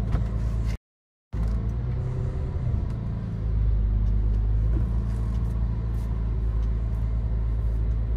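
A Porsche 911 engine idles and rumbles as the car is moved inside a garage, a deep steady low growl with a short break, then a slightly louder surge as it creeps forward.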